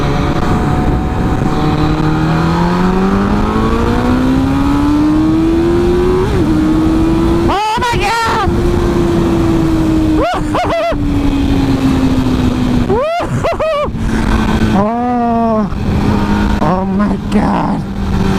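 A 2007 MV Agusta F4 1000R motorcycle rides with its engine droning loudly and steadily under wind rush, its pitch climbing as it accelerates, with several sharp gear-shift blips and revs.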